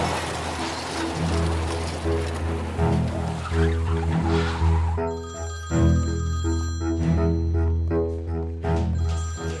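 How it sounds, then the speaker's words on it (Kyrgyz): A telephone rings in a dramatic scene, its repeated bell tones sounding over a dense, loud bed of music and background noise for most of the clip. "Тергөөчүм, сизге чалып жатышат."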